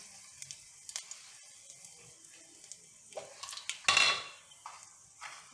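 Two dried red chillies drop into hot mustard oil in a home kitchen, giving a short, bright sizzle burst after scattered light clinks and taps of a pan and utensil.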